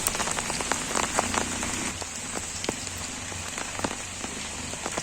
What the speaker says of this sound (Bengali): বৃষ্টি তো একটু জোরে আসতেছে গাইস